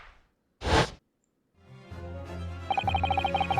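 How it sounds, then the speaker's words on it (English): A firecracker bang from the Venus special in the video game The Great Ace Attorney Chronicles: a single short, sharp burst sounds, then silence, then game music rises beneath. "The Venus special that you sell for 600 pennies sounds like this."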